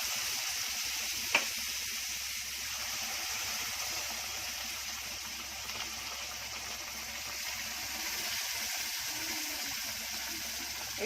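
Steady, loud sizzling hiss of water poured slowly into hot semolina in a pan for sooji halwa, continuous throughout with a brief sharp crackle near the start.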